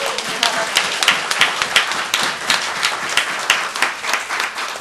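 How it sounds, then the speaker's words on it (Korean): An audience applauds in thanks after a sermon on raising children, a steady patter of many hands at moderate level with soft peaks, lasting a few seconds with no talk over it. "우리가 감사의 박수를 드려야 되지 않겠습니까?"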